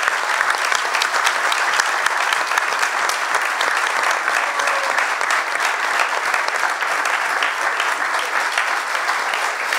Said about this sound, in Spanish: Un fuerte aplauso para las compañeras.